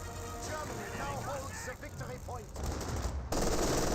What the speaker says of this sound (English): The lieutenant himself is still up firing away with his Thompson.